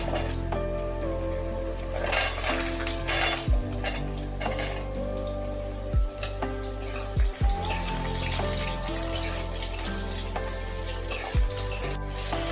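Potatoes tossed into hot cumin and chilli tempering in a pan sizzle and fry steadily, with stirring scrapes and occasional clatters of the spoon against the pan.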